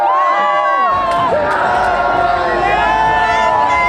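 A large crowd roars and cheers continuously outdoors as the St. Louis Blues win their first Stanley Cup, loud and close, with overlapping shouts and voices throughout.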